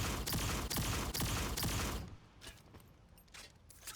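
Rapid bursts from the P.649 HEL gun in fast fire mode in Aliens: Fireteam Elite, a quick run of loud evenly spaced shots for two seconds, then quieter mechanical clicks and faint pops.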